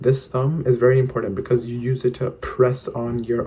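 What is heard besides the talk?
No everyday noises stand out.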